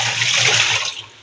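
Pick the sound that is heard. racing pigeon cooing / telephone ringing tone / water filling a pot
water filling a pot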